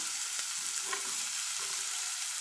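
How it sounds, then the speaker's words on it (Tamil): Chopped onions fry in hot oil seasoned with asafoetida for a carrot and beans poriyal, making a steady, moderate sizzle up close with a few light stirring taps and no talking. "இப்போ வந்து நம்ம கட் பண்ணி வச்சுருக்கிற வெங்காயத்தை ஆட் பண்ணிக்கலாம்"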